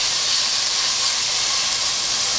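Pork cubes fry in a pan after onions, a steady broad hiss and sizzle running evenly and close throughout with no voices.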